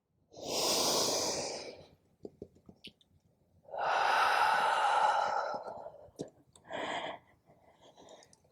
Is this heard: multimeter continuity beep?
no